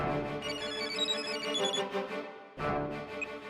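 Telephone rings in a repeating electronic ringtone pattern, loud and close, with a brief pause before the ring resumes.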